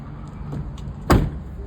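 A vehicle door is opened during a cleanliness inspection, giving a single sharp clunk after faint handling noises, close and clear over low background rumble.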